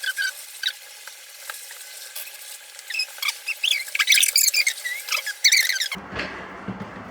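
Athirasam batter with jaggery is stirred by hand, giving wet scraping and squelching strokes in an irregular rhythm that grow busier, then end in a sudden shift to a duller, lower rustle.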